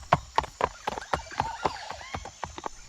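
Horse hooves clip-clop in a steady walking rhythm of about ten close, distinct knocks as the animal is ridden toward a king, with a faint neigh-like tone beneath.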